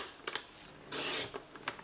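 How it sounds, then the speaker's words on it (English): Scissors cut a strip of cardstock paper at half an inch for a handmade treat bag, a few short crisp snips and a longer rasping slice, close and quiet. "I'm just going to cut it at 1/2 inch"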